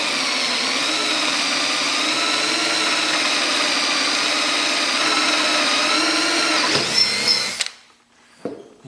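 A power drill with a 1/4 inch bit bores a hole straight through a wooden model-train layout table, running loud and steady with a high whine for about seven seconds before cutting off, followed by a couple of faint knocks.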